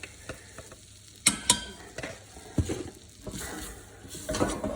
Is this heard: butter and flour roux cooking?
yes